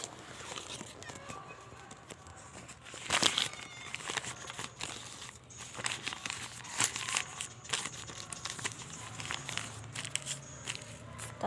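Sheets of paper are crumpled and handled close by in a steady run of crackling rustles, with brief louder crinkles and faint voices in the background.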